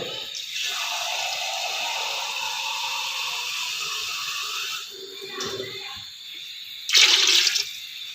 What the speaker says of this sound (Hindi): इसमें थोड़ा सा पानी ऐड होगा